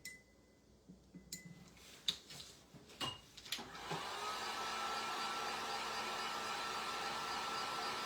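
A hair dryer starts up and blows steadily at close range, drying a wooden snow globe freshly painted green and red, after a few clicks and handling knocks at the start.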